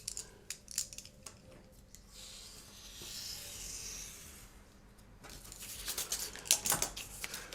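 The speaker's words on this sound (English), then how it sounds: "just cut yourself a strip of card" Scissors cut a long strip of card in quiet, close snips and slicing rasps, with soft paper rustling and handling between cuts.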